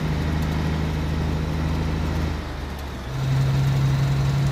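A heavy truck engine runs steadily in the video game Alaskan Road Truckers, a constant loud drone whose tone dips briefly before rising back to a slightly higher, stronger hum.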